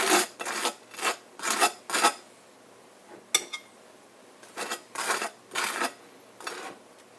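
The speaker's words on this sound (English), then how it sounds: "First, you butter the bread." A knife spreads butter across dense pumpernickel bread in rasping strokes, five quick scrapes, a pause with a small tap, then four more, all close and clear with no talking.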